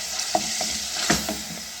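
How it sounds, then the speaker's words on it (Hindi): Beef and chana dal with fresh yogurt frying in a pot, a soft steady sizzle broken by a few scraping stirs of a spoon, close and quiet, no voices. "तो 5 मिनट अच्छी तरह भूनेंगे।"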